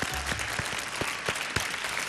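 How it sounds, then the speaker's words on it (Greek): Studio audience applauding at a reality show premiere, a steady dense wash of clapping with a few sharper claps standing out, loud and continuous throughout. "Χειροκροτήστε το σπίτι μας."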